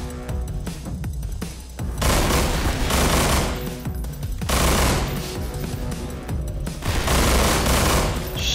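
Rapid automatic gunfire from the first-person shooter Estranged, loud dense bursts of machine-gun fire rattling continuously in waves with heavy booming, no voices.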